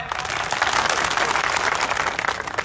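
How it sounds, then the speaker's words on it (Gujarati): Audience applause at a political rally speech, a dense burst of many hands clapping together, loud and sustained for the whole moment. "એકવાર જોરથી તાળી ઉપાડો"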